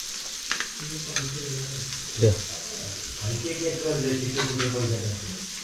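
Surmai (kingfish) frying in a pan in a busy kitchen, a steady sizzle and stirring noise running under near, continuous talk, with a brief louder clatter midway.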